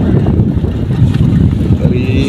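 A boat moving across the water at Tapola near Mahabaleshwar, heard as a steady low rumble with constant wind buffeting the microphone, while people talk over it.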